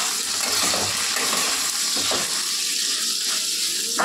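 Green chili and grated ginger fry in hot oil for a curry, a steady close sizzle running without pause, with a few soft stirring scrapes and small clatters on top. No one speaks.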